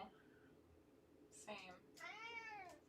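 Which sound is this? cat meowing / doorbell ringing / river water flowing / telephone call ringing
cat meowing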